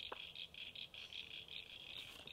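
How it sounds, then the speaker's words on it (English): Frogs croak in a steady, rapid pulsing chorus outdoors, faint and somewhat distant, with no talking. "Oh, the frogs are back."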